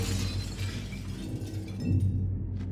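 Glass shatters in the Little Nightmares game, a loud crash with a bright splintering spray of shards, heard against low droning game ambience.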